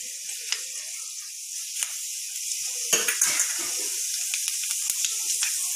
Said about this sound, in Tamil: இது நல்லா பொரியட்டும்